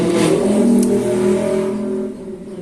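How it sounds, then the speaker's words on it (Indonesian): A motorbike passes close by, its engine a loud, steady drone that holds for about two seconds before fading away. "Oke, maaf tadi ada motor."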